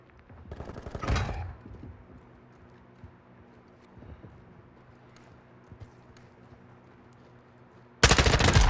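Gunfire in Call of Duty Modern Warfare II (2022 beta): a loud burst of shots early on, scattered quieter bangs through the middle, and a dense, very loud burst of fire at the end.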